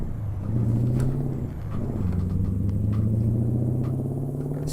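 A Mack Superliner truck with a 720-horsepower engine accelerates in American Truck Simulator, a deep, loud rumble whose pitch climbs steadily as it gathers speed, heard alone up close.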